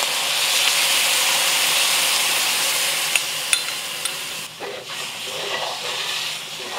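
Gravy sauce hits a hot wok of beef stir fry with a loud, steady sizzle and hiss, a few sharp clinks partway through, then the frying settles a little lower and more uneven.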